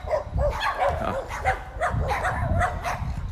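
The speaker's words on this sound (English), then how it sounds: "Dogs are appreciating my presence." Several dogs bark together nonstop, close by and loud, in a rough overlapping chorus of woofs with a few higher yips mixed in.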